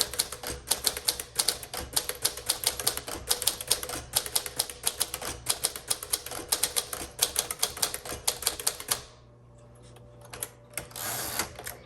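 A 1954 Smith Corona Silent-Super typewriter typing, a steady close run of sharp key strikes and clacks that stops abruptly, then a brief mechanical rattle near the end.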